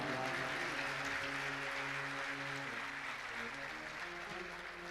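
A crowd claps together in a steady, continuous wash at a Shrimad Bhagavat Katha religious gathering in Kutch, with a faint droning musical tone underneath.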